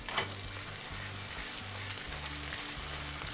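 Potatoes deep-fry in bubbling oil with rosemary and garlic, giving a steady close sizzle. Crackling and popping sit over a low, rhythmic bubbling.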